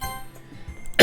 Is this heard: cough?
yes